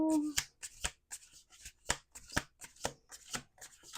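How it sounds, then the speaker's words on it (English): A deck of tarot cards is shuffled by hand in a series of sharp, crisp riffles and snaps, about ten distinct bursts at a steady rhythm, close but fairly quiet, with a voice briefly at the start. "Last shuffle."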